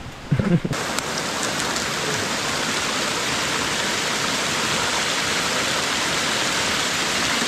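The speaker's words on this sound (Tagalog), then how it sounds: "Yun pala yung tunog ng mismong sapa" Steady, dense rushing water from a brook flowing nearby fills the clip from start to finish, a constant broadband wash, after a brief knock at the start.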